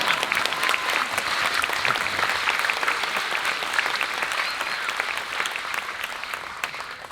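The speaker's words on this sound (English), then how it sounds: "Now you can applaud him." An audience at Dr. Jane Goodall's lecture applauds with steady, moderately distant clapping that fades gently toward the end of a hall-filling burst.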